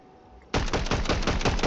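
Pump shotgun fire in the battle royale game Fortnite: a sudden loud burst after a quiet start, followed by a rapid, rhythmic run of sharp cracks close up.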